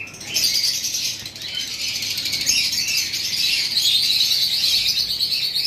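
Pet birds for sale at a bird shop, including pairs of blue marks and green fishers, chirping in a dense, continuous chorus of high tweets that fills the space without pause.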